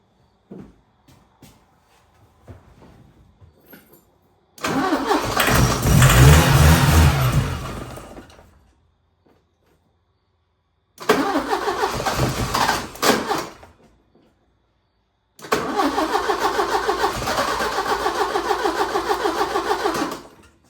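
A 1980 Porsche 924 Turbo engine with a fuel-injection starting problem cranks in three separate loud bursts broken by silence. The first attempt swells briefly as it nearly catches, and the last burst keeps a steady rapid cranking rhythm.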